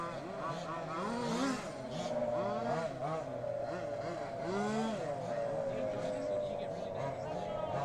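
Large-scale RC off-road cars race at a national titles event, their small engines whining and revving in overlapping pitch sweeps that run continuously, with a commentator talking over them.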